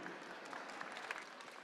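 Audience applause at a Falmouth Road Race event, a steady wash of clapping from a crowd, fairly quiet and distant, continuing evenly without talk.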